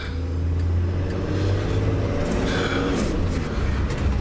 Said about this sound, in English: Caravan is towing really nicely today.